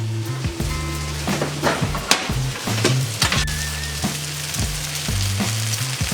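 Bacon sizzles and crackles on a hot oven tray, a steady close frying hiss broken by scattered pops and clinks of the metal pan being handled.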